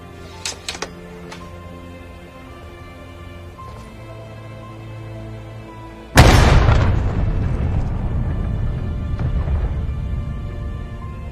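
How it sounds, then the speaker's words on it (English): A single loud cannon blast from a Civil War artillery piece firing canister shot in War of Rights booms out after a quiet stretch of faint ambient noise, followed by a long rumbling decay. "These canister rounds here will be able to hit a wide variety of targets at short ranges"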